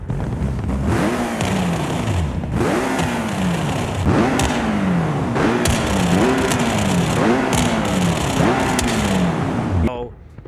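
A Porsche 930 with a twin-turbo 4.0-litre flat-six built on a race block revs repeatedly in BeamNG Drive, loud rising and falling sweeps in a steady rhythm that cut off abruptly near the end.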